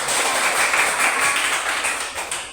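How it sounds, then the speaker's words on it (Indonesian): A classroom of students claps their hands together in a steady, dense burst that continues throughout at moderate loudness, with no talking over it. "Oke, tepuk tangan dulu."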